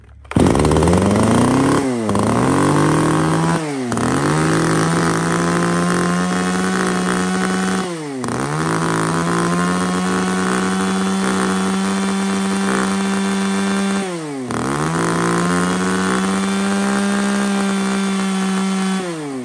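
A used Japanese T7 chainsaw with a primer bulb runs loud and close, a steady high-pitched two-stroke drone broken by several brief throttle drops and revs.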